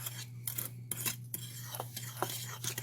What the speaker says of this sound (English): Okay, now we mix this all up. This is our little spice mixture.